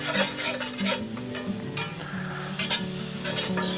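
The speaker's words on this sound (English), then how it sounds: "Stir that all together." A butter and flour roux being stirred in a pan for breakfast tacos, a steady scraping stir over a soft continuous sizzle, close and fairly loud throughout with no talking.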